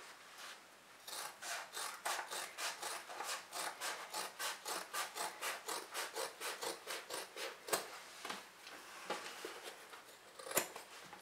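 Scissors trimming excess fabric beside the seam of a sewn handbag, a close run of about two dozen evenly spaced crisp snips, then a few slower, scattered cuts.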